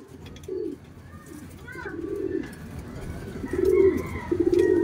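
Racing pigeon cooing inside its loft in several soft, throaty bursts, close and fairly quiet, with a voice talking faintly between calls.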